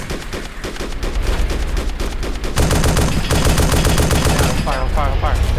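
Heavy gunfire in ArmA 2 Operation Arrowhead during an insurgency match, rapid machine-gun bursts and repeated shots rattling continuously and loudly throughout, thickening midway into dense sustained fire.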